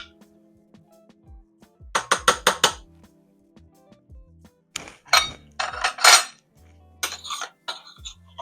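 Metal spoon scraping and tapping seasoning out of a pot for a meatball, smokies and pepper slow cooker appetizer, several sharp clinking bursts in quick clusters separated by near silence.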